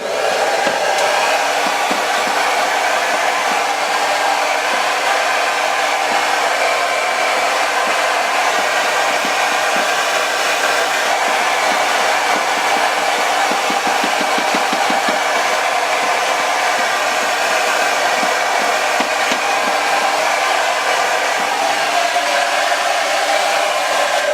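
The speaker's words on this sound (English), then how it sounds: "Distributing it, twisting, and then blow dry it." A hair dryer blows hair dry in a steady, loud, close roar with no pauses. Its pitch holds constant from start to end and no voice is heard.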